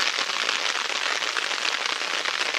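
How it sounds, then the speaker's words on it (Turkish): Heavy rain pours down at a creek, a dense, steady hiss of drops striking water and ground, loud and unbroken with no voices. "Müthiş bir sağanak yağış var."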